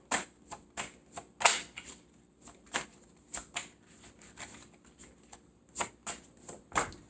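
Tarot cards being shuffled and drawn: irregular crisp flicks and slaps of cards, some in quick pairs, close and fairly quiet with no talking.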